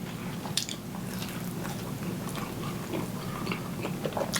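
Close, wet biting and chewing of pizza topped with cheese and spicy vodka sauce, continuous mastication with soft crunchy accents and no talking.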